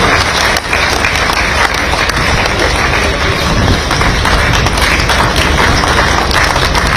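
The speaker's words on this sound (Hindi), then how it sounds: "स्वयं तालियां बजाएंगे, स्वतः तालियां निकलेंगी" Loud, dense audience applause at an Independence Day event in India, continuous close clapping from a large crowd with no pauses.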